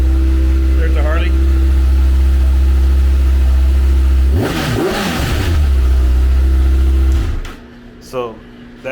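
A 2020 Kawasaki ZX6R motorcycle on its stock exhaust holds a loud, steady engine note, then revs up sharply in a burst midway before dropping off near the end.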